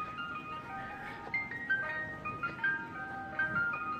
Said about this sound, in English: That's the ice cream truck song.